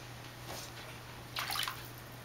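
Water splashes faintly during a pet's first bath, with two short bursts of sloshing over a quiet hum, the second one longer and louder.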